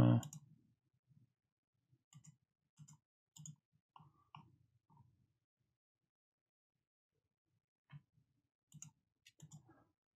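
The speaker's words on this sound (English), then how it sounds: "Lots of clicking." Soft, sparse mouse clicks while navigating menus in Football Manager 2018, arriving in small quick clusters separated by stretches of near silence, quiet and close.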